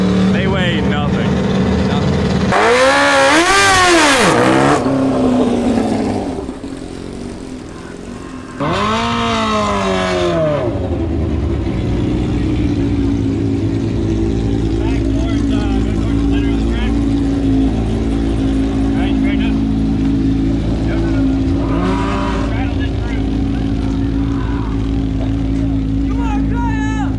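Race cars during a race day competition, engines rising and falling as they pass, with a couple of loud revving surges over a continuous mechanical drone and people talking throughout.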